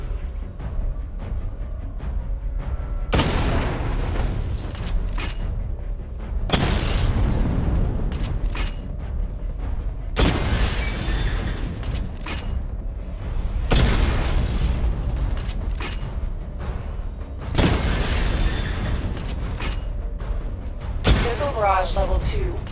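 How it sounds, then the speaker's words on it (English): Repeated heavy missile-barrage explosions from Batman Arkham Knight boom out in loud broadband bursts roughly every three to four seconds, each one rumbling and decaying before the next volley, with mechanical whirs and game effects in between. "Charge the missile barrage to level 2 to destroy up to 4 targets at once."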